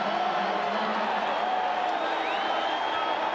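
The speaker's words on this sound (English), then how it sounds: "Listen to that crowd now for the Raiders." A stadium crowd of Raiders fans at a 1990 preseason game against the 49ers gives off a continuous broad roar and cheering, distant and steady for the whole stretch.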